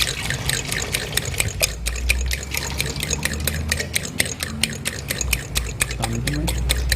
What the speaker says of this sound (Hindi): सो ये आपने 1 ग्लास इसमें पानी ऐड कर दिया अंडों में